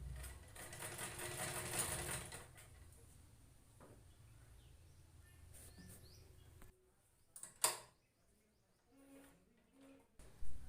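A sewing machine stitches a fabric sleeve, humming steadily and faintly for several seconds before stopping, followed by quiet handling clicks and a few soft knocks.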